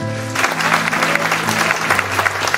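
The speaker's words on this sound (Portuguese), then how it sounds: "Eu queria pedir à igreja uma salva de palmas a todos esses irmãos que estão conosco na live." A church congregation breaks into loud applause after a brief tonal sound at the start, dense clapping from many people filling the room for a couple of seconds.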